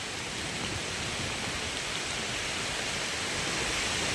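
Heavy rain and wind from Typhoon Uwan pour down in a dense, unbroken roar that fills the clip at a steady loud level, with no voices.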